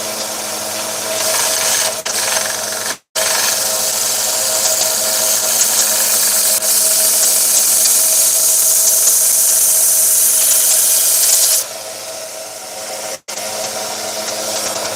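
A 1x30 belt grinder runs loud and close, taking the sharp edge off metal with a steady abrasive whir and grinding hiss. The sound drops out briefly twice, and a brighter, harsher stretch comes where metal presses against the belt.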